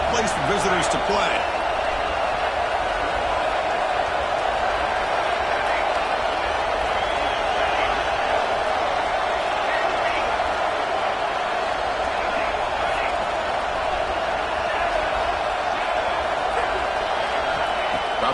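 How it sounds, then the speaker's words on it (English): A packed stadium crowd at a college football game, Oregon against South Carolina, roars in a continuous loud, dense wall of noise with no letup, scattered cheers and claps mixed in. "Listen to this crowd noise. This stadium is vibrating."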